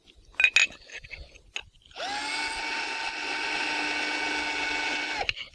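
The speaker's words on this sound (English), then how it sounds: "You can see how easily that drill has drilled through there" A carbide twist drill bores through ceramic tile with a steady, close high-pitched whine that holds for about three seconds before cutting off, preceded by a few short knocks and clicks.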